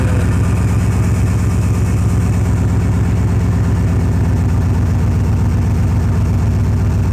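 A Monte Carlo car engine idles steadily and close after a carburetor adjustment, a continuous low rumble with an even pulse and no talking.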